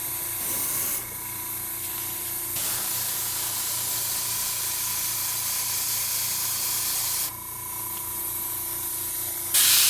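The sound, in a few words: airbrush spraying brick color paint on model tank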